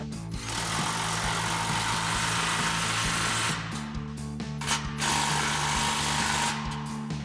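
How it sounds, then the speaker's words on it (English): A tool works steadily at close range, snugging down exhaust clamps during a dual muffler install on a Toyota Tundra, in two sustained runs separated by a brief pause near the middle. "And we'll snug these clamps down."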